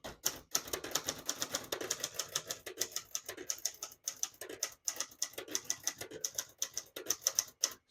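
Steady typing on a 1960 Hermes Rocket ultra-portable manual typewriter, with crisp rapid keystrokes clacking in irregular bursts, brief pauses and a carriage-like thunk near the start.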